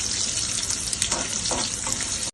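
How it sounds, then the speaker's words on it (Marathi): Onion frying in a hot pan, a steady close sizzle with a few soft stirring scrapes, no voices. "कांदा जरा लालसर करते चांगला लाल व्हायला पाहिजे कांदा"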